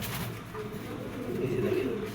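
A male Ice Bird racer pigeon coos softly, its low throaty notes swelling toward the end over steady, hissy background noise.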